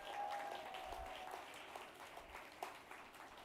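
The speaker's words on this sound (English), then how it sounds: "Let's give you all a round of applause." A crowd at an equity awards gala applauds, a soft wash of many hands clapping at a distance, fairly faint and steady throughout with a few sharper claps standing out.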